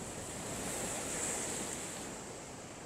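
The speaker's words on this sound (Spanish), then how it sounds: "y empieza desde allá el oleaje," Ocean surf at the shore below El Morro, a steady, loud rushing wash of breaking waves with some wind across the microphone, no speech.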